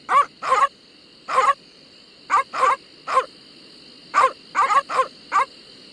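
Piranha poodles barking in the video game The Secret of Monkey Island, about a dozen short clipped barks in irregular bursts over a faint electronic tone.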